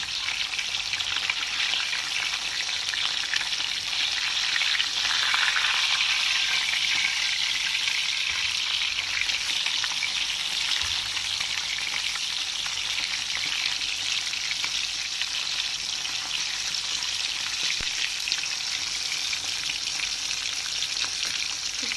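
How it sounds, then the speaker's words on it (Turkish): Steady, crackling sizzle of fish frying in hot oil in a pan continues throughout, close and even, with occasional small pops and no voices. "güzelce böyle hepsini kızartıyoruz."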